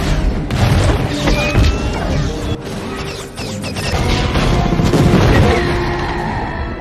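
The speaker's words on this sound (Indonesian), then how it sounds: "Kota itu porak-poranda, tembakan di mana-mana." A city battle from The Avengers film, with the Chitauri invasion and gunfire everywhere: a dense, loud barrage of crashes, booms and impacts rolling on without pause, chaotic and close.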